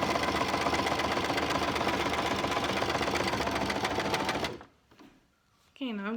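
Sewing machine stitching elastic onto a fabric mask, a loud, steady rapid clatter of the needle running close for several seconds, then stopping abruptly, followed by a pause and a voice speaking.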